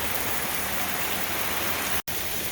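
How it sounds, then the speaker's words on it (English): Heavy rain during a thunderstorm pours down in a dense, steady hiss that stays loud and close the whole time, with a single split-second dropout near the end. "Look at this rain."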